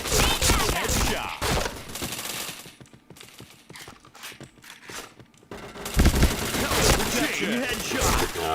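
Rapid bursts of automatic gunfire in a shooting video game, loud and close, with a quieter stretch of scattered shots midway before heavy firing resumes.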